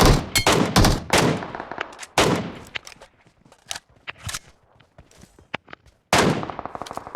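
Gunfire from players shooting each other in PUBG Mobile: loud clustered bursts of shots up front, then scattered fainter single cracks and short volleys, with another loud burst near the end.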